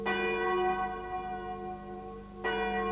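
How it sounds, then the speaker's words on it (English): A bell hung from a tripod, rung hourly in open tussock country, strikes once with a bright sustained chime that decays slowly, then is struck again near the end, loud and close with no voices. "they hung the bell from a tripod and rang it every hour"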